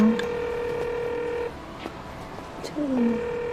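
Phone keypad tones beep in a short sequence, a couple of clear steady pitches followed by a brief gap and another tone, near and fairly loud, with a faint background hum.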